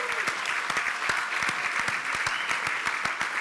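A dinner audience gives a round of applause for culinary arts students at an anniversary gala: brisk, dense clapping that stays steady and close for a few seconds, with no speech over it.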